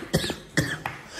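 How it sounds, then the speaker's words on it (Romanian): A person coughs hard three times in quick succession, each cough a sharp, close burst; the person has a sore throat and COVID. "Mă ustură pe gât și tușesc tare."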